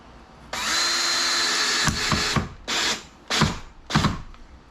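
A power drill whirs steadily for over a second, then stops and restarts in several short bursts as it drives a screw with a worn bit while installing a prefabricated door, close and loud.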